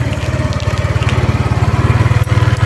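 A Motoposh Evo Deluxe 150 motorcycle engine idles close by, a loud, even, rapid putter with a steady pulsing beat throughout and no one talking.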